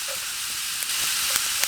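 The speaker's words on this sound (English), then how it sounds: "to cook up my ground beef" Ground beef frying in a pan over a campfire burning slightly wet wood, a faint steady hiss and sizzle with a few small pops and clicks, brief and continuous.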